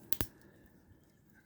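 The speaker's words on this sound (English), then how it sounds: "like a hard ratchet." An action figure's chest joint gives two quick, sharp ratcheting clicks close up, followed by near silence.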